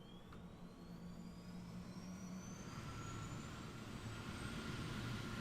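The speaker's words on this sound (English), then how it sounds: "Let's start the engine up." La-200 jet engine starting up in War Thunder: a rising turbine whine climbs steadily over a deepening rumble that swells and grows louder over several seconds, with no talk.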